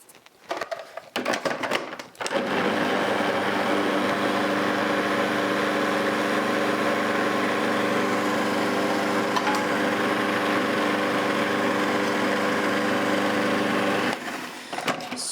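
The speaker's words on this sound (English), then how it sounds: "we're going to pulse this fat through this flour, and we'll just put a pinch of salt in" A food processor pulses fat into flour and a pinch of salt for a vegan spinach and red onion quiche pastry, a steady loud motor whir running unbroken for about twelve seconds after a brief start, then cutting off.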